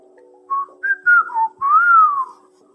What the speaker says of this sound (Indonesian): Bibirnya memperdengarkan siulan berirama kacau